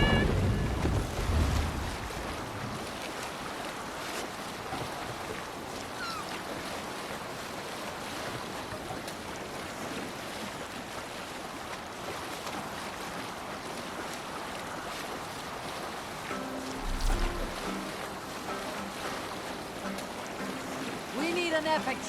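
A Viking longship under sail across open water in Assassin's Creed Valhalla, with steady wave wash and wind noise running throughout, brief low thumps at the start and again later, and voices faintly underneath.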